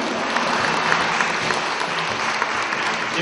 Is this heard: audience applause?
yes